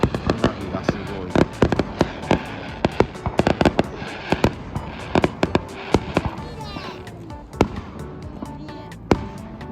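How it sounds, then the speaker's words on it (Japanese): Fireworks burst in a rapid irregular barrage of sharp cracks and booms, some close and loud, others fainter, with occasional voices talking underneath. "花火がすごい。"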